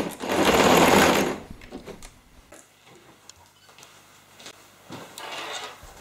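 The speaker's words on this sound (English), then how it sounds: "finish with a backstitch" A sewing machine stitches a denim jeans bag in a quick loud burst for a backstitch, then falls quiet apart from faint clicks and handling, before starting again softly near the end.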